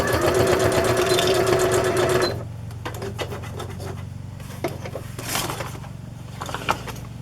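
A sewing machine stitches through paper embellishments on a rustic traveler's notebook journal, a loud rapid buzzing run that stops after about two seconds, followed by quiet rustling and handling sounds.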